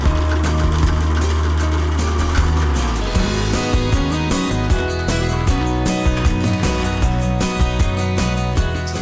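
A sewing machine stitches bias tape into the crease along a dress bodice's top edge, a steady close motor hum with a quick regular needle tapping that picks up pace partway through.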